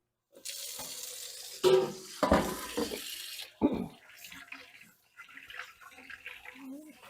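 Water runs from a kitchen tap as hands are washed in a bowl during home beef canning, with bursts of splashing and gushing broken by pauses, while people talk nearby.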